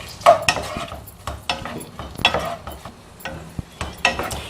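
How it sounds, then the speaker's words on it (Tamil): Large onions fry in melted butter in a pan as a utensil stirs them, with soft sizzling under a string of irregular metallic scrapes and clinks. "முதல்ல நம்ம பெரிய வெங்காயத்தை போட்டுக்கலாம்"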